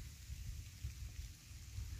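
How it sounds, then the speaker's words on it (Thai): Rain falls steadily on green rice fields, a soft, even wash of patter heard nearby throughout, with no voices. "ได้ชุ่มชื้นแล้วฝนก็กำลังตก"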